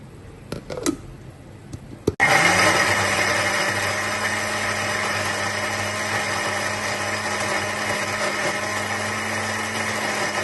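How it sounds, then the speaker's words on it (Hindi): A kitchen blender grinding almonds with milk into a fine paste: a few handling clicks, then the motor kicks in sharply and holds a loud, steady, close whirring drone to the end. "बादाम ब्लेंडर में डाल के इसका अच्छा सा बारीक सा हमने पेस्ट बना लेना है"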